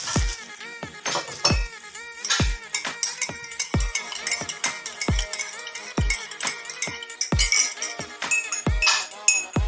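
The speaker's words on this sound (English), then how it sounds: "And stir it." A spoon stirs turmeric-ginger tea in a cup with a steady run of bright, ringing clinks against the cup about every half second, close and clear with no talking.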